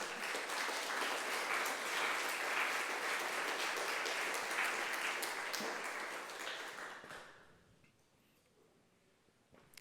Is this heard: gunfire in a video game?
no